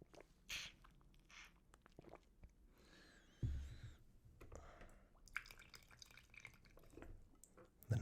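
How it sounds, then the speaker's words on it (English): Water poured and sipped from a South American herbal tea gourd, soft close drips, gurgles and slurping squishes scattered irregularly, quiet overall with a few louder wet bursts. "the noise of the water can get kind of loud."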